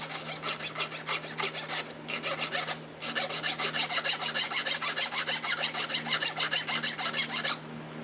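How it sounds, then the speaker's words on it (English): Steady back-and-forth rasping of a file or sanding tool working a chainsaw tooth, close and loud, in rapid even strokes with two brief pauses. "You take this out, and you just sand it down."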